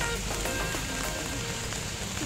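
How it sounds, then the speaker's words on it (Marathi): Heavy rain pours down at night on a roadside in Goa, a dense, steady hiss of drops drumming on surfaces close by, loud and unbroken with no voices. "खूप पाऊस पडतोय"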